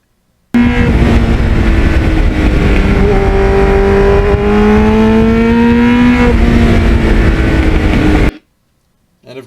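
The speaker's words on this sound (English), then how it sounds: "the sound of the bike is in the ear of the beholder" A restored 1989 Kawasaki Ninja GPX750R motorcycle engine runs loud and close, its pitch swelling and sinking through several revs for about eight seconds before cutting off abruptly.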